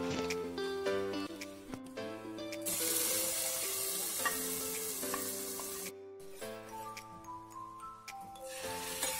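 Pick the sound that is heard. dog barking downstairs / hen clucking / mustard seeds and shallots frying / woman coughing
mustard seeds and shallots frying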